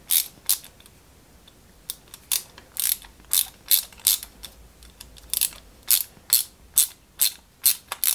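A small screw is driven into a 1/8-scale Ford Mustang model kit, giving a rapid series of sharp, close ratcheting clicks at a steady rhythm with brief pauses between turns.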